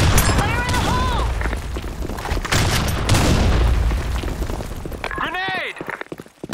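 Grenade blasts and heavy booms roll through a BlackShot video game match, loud and close with bursts of gunfire, while in-game voices shout over the chaos.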